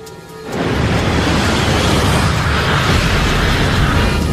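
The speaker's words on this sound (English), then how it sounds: "That sounded like some kind of explosion." On Air France Concorde Flight 4590 during takeoff, a sudden loud explosive burst erupts after a brief quiet moment and rolls on as a sustained, heavy roar.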